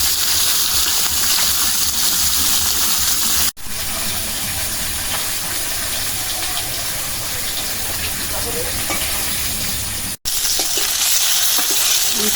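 Chital fish frying in a pan in a loud, steady, hissing sizzle with faint stirring scrapes, close up, broken by two sudden brief gaps.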